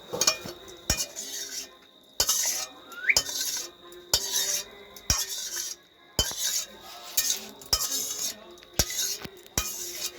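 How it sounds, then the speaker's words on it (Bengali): Chilli chicken is scooped out of the cooking pan into a serving bowl, a metal spoon scraping and clinking against the cookware in a series of sharp, separate knocks with quiet gaps between them. "আমি এটাকে নামিয়ে নিলাম একটা পাত্রের মধ্যে"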